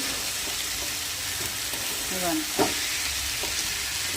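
Spices sizzle in hot oil for tempering, a dense, steady crackling hiss heard close up, with a brief spoken word over it.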